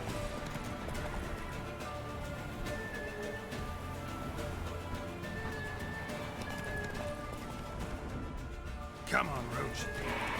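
Roach, the horse in The Witcher 3, gallops with a steady clip-clop of hooves under game music and ambience, with a brief sharp burst near the end.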